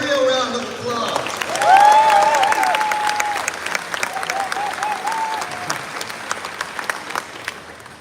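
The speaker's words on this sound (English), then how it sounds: "Let's give Steve a real round of applause." Audience applause with cheering and whistles at an LA Clippers event introducing Obama facilities in Los Angeles; steady clapping fills the room while a voice calls out over it, then the clapping thins and fades.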